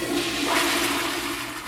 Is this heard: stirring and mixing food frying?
no